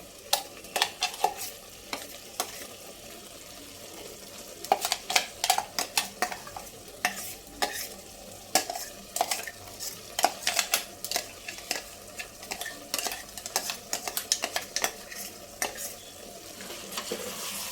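Spinach paste for palak paneer cooks in a pan under constant stirring, with a soft sizzle beneath rapid, uneven scrapes and taps of a spoon against the pan, close by and without talk.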